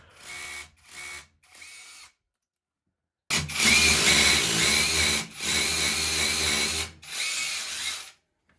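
A power drill deepens a screw hole in a wall for remounting a wall cabinet, loud high whining bursts, three short ones, a pause, then longer sustained runs with brief breaks.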